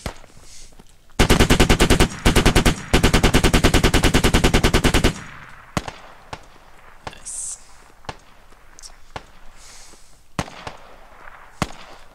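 Bursts of rapid machine gun fire rattle loudly in the Squad video game, three dense volleys in quick succession, followed by scattered single shots, distant pops and clicks as the fire dies down.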